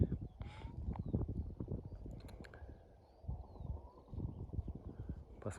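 Horses moving about on an April farm visit, with a foal nearby, hooves clip-clopping in a loose uneven rhythm close by, mixed with rustling and handling noise and a few faint bird chirps.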